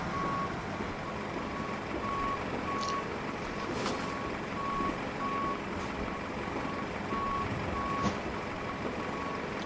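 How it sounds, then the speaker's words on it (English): A pushback truck's reversing alarm sounds in short, evenly spaced beeps at an airport terminal in Microsoft Flight Simulator 2020, moderately loud over a steady engine and ambient rumble. "Is that the pushback truck?"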